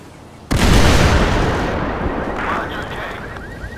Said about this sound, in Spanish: ahora vamos a escuchar el sonido de una explosión cercana, una más cerca a nosotros